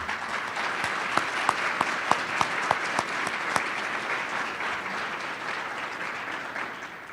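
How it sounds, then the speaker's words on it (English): An audience at an education foundation awards event applauds its supporters with sustained, fairly loud clapping, a few sharp individual claps standing out early before the sound gradually thins toward the end. "if you'll please stand so we can give you a round of applause"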